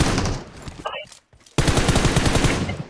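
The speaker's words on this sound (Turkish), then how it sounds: "Hadi Yakup botu vurmasınlar da ben vurayım. Vurdu botu" Rapid automatic gunfire in a video game aimed at a bot, loud and close. Dense bursts of shots break off briefly, then resume in a sustained volley.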